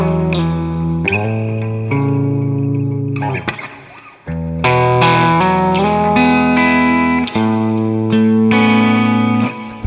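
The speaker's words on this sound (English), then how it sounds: "Or with the delay." Electric guitar playing a slow major blues riff through an analog delay, several strummed chords and single notes ringing with echoing repeats and a brief pause midway, loud and close with no talking.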